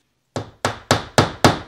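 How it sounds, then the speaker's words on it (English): Five hammer blows drive a nail into a wall through tape while a gallery wall is hung in a living room, sharp, loud and close, each one followed by a brief ring-off, alone without talk. "as long as I hammer in the center of this piece of tape"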